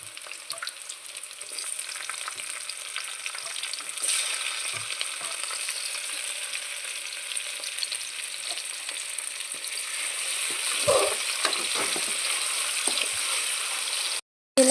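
Chopped tomatoes hitting browning onions in a hot pan, a continuous bright sizzle that holds steady and swells slightly near the end before cutting off, close up with no talking.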